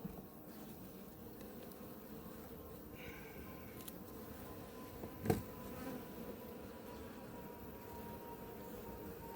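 Wasps and bees buzz faintly and continuously around an open beehive at an apiary. There is a steady low drone with a single sharp knock partway through.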